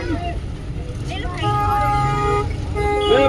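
A vehicle sounds its horn in short toots while moving slowly through a crowd on the road, with engine noise and voices of people around it.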